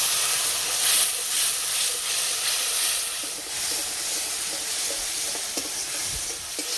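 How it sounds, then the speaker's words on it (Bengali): Spice paste of cumin, Kashmiri chili and a little turmeric powder, loosened with water, sizzles and hisses steadily in hot oil in a pan, close and continuous with occasional stirring scrapes. "মশলা বাটা জল দিয়ে মশলাটা ভালো করে কষিয়ে নেব।"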